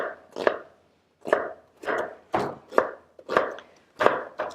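Half an onion chopped with a chef's knife at a home kitchen counter, eight distinct close knife strokes hitting the cutting board in a fairly steady rhythm, alone without talk.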